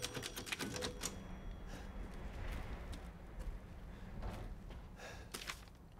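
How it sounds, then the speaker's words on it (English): A typewriter in the video game Resident Evil Village gives a quick cluster of sharp mechanical clacks near the start, then sparser taps over a steady, murky ambient rumble. "Oh, typewriter."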